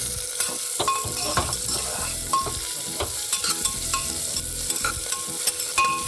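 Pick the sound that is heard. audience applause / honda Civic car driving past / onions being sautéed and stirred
onions being sautéed and stirred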